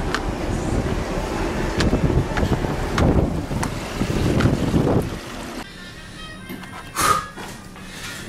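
Strong gale-force wind gusting across an open cruise ship deck at sea, loud buffeting rumble that eases partway through, then a brief sharp gust.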